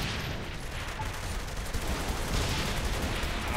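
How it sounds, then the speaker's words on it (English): Dense, continuous gunfire in a chaotic firefight from the Saints Row 3 video game, a steady roar of rapid shots with random large explosions mixed in, loud and constant throughout. "There's random large explosions happening in the middle of this firefight"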